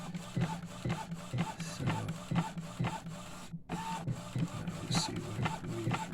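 An A4 DTG printer under repair runs with rapid rhythmic mechanical clacks and rubbing strokes as the print head shuttles back and forth, close and steady, with a brief pause midway.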